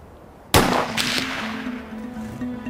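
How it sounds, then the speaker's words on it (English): A single sharp, loud high-velocity rifle shot fired at a one-pound block of TNT, with an abrupt crack followed by a lingering rumbling decay and faint ringing, no explosion following. "A marksman will fire a high-velocity bullet at 1 pound of TNT."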